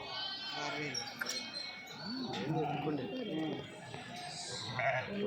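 Sheep and lambs bleat amid a noisy outdoor crowd at a livestock market, with people talking over the calls.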